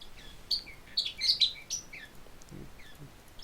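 A pet bird chirps indoors in a quick burst of high, bright tweets, then a few fainter calls follow, with no one speaking.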